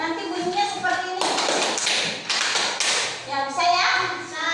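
Classroom clapping pattern performed by a group, several loud claps in a quick burst between stretches of children's singing and talk, with a second burst of claps shortly after.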